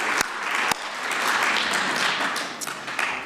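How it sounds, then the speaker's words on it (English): Sustained audience applause at a school speech night, a dense steady wash of many hands clapping with a couple of sharper individual claps near the start. "So if we could give a round of applause to all of these people who helped make all this possible."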